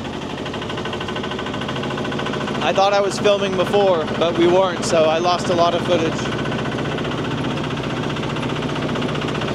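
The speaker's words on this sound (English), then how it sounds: "we're on the tractor going up to the viewpoint" A tractor engine rumbles steadily as the tractor climbs uphill toward a viewpoint on a mountain in Thailand, with a person talking over the constant chugging drone.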